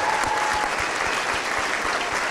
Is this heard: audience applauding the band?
yes